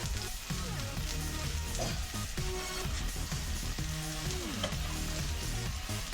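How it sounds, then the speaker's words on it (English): A steak sizzles on a hot Blackstone griddle, a steady hissing crackle that holds for the whole stretch, with fainter tonal sounds mixed in underneath and no talking. "I'm gonna scoop the steak up. I'm gonna stick it on my Blackstone."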